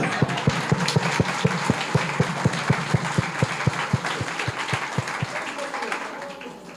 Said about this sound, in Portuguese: vamos dar um aplauso a ela, vamos.